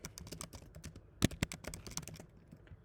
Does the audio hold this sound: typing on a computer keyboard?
yes